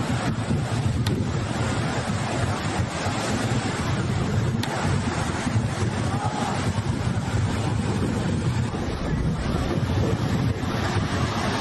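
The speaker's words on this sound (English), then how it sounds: "a huge wave came crashing over the rocks and swept her out to sea" Monsoon-season surf surges against the rocks at a Koh Samui beach, a continuous heavy roar of breaking water mixed with strong wind buffeting the microphone, with no single crash standing out.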